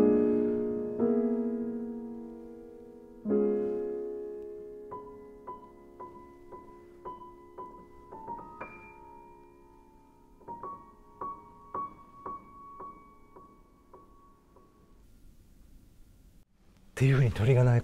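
Orchestra and piano imitate birdsong in Messiaen's Turangalîla Symphony: a few soft sustained chords give way to a gentle series of high, repeated struck notes, quiet and unhurried, with a brief burst of sound at the very end.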